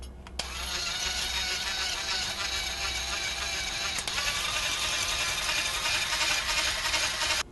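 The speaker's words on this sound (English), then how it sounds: "I'm going to use my electric battery-powered whisk here to beat these until they just start to thicken a little bit" A battery-powered electric whisk beats mock béarnaise sauce, a steady, close mechanical whir running without a break for several seconds.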